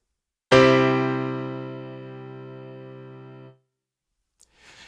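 One bright chord on a Casio Casiotone CT-S1 keyboard's modern piano tone, struck with a sharp attack, sustaining and fading gradually for about three seconds before stopping abruptly.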